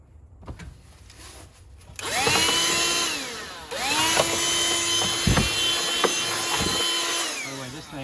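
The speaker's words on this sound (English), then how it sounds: "A little Black & Decker dust buster." A Black & Decker Dustbuster handheld vacuum sucks rust debris off a truck battery area, its small motor whining loudly in bursts, with the pitch swooping up and down as it starts and moves.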